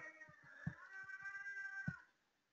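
A pet cat meows twice, about a second apart, fairly close and clear, each call a drawn-out harmonic cry over a quiet room with no talking.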